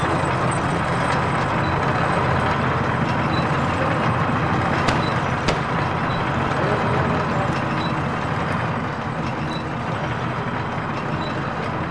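A tank engine in a WWII D-Day game gives off a steady, dense rumble that stays loud and unbroken throughout. A few faint clanks poke through the drone.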